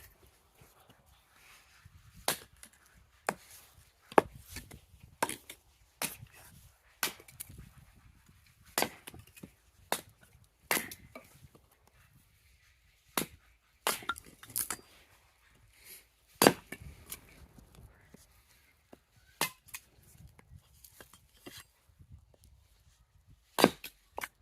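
Kindling wood is split by chopping, giving sharp, loud cracks and thuds at irregular intervals, close, with near silence between the strikes.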